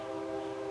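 A train rumbles steadily in the background with a sustained horn-like drone, loud and continuous throughout.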